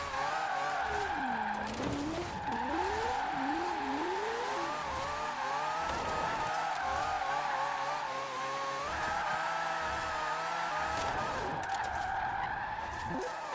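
A car slides under the handbrake with sustained tyre squeal and a wailing, rising and falling screech over a constant engine drone, close and loud throughout.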